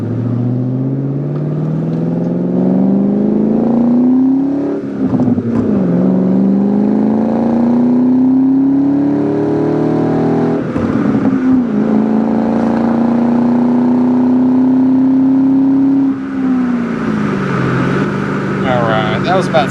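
2001 Ford Mustang Saleen on a test drive, engine pulling hard through several gears with rising whines and shift dips, loud from inside the car with a voice talking over it.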